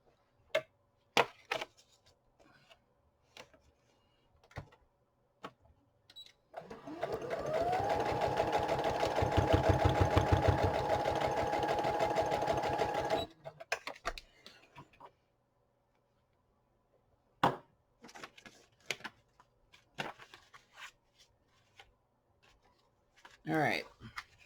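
A sewing machine stitches an embellishment onto a handmade farmhouse-style junk journal, a steady fast mechanical whir lasting several seconds in the middle, with quiet handling clicks and taps before and after.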